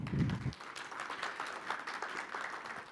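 Audience at a panel discussion on decentralization and investments applauding to welcome a speaker, faint, fairly distant crowd clapping that carries on steadily for a few seconds.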